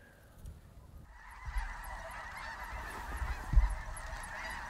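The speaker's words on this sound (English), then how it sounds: "That is so many snow geese." A large flock of snow geese honks steadily in South Dakota fields, a continuous chorus of overlapping calls at moderate distance with no talk.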